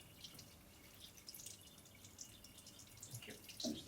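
An aquatint etching plate is rinsed under a running tap, giving a soft, steady wash of water with scattered drips and light splashes close by, growing slightly busier toward the end.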